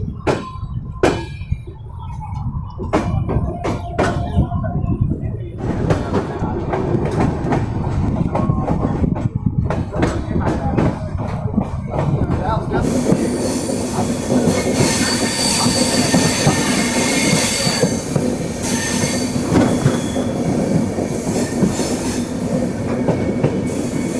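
Swaraj Express train pulling away from a station in Punjab, starting with sharp clanks and squeals that build into a loud, continuous rumble of rolling wheels and carriages.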